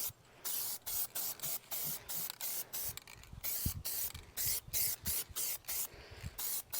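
Spray paint hisses in a rapid series of short, even bursts aimed at a steel heater fan motor from a Chevy C10 restoration, each burst loud and close, with brief quiet gaps.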